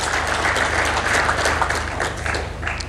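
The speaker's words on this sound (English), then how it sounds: "Let's also give them a round of applause." A conference audience gives the speakers a steady round of applause, dense clapping that stays loud throughout and eases slightly near the end, with no voices.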